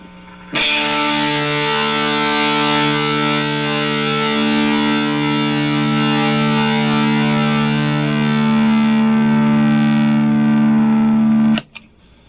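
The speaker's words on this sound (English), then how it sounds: "I'm using my Pigtronics Germanium Gold Micro compressor overdrive." A loud electric guitar chord through a Pigtronics Germanium Gold Micro compressor overdrive pedal, thick with overdrive, sustains for about eleven seconds before being cut off.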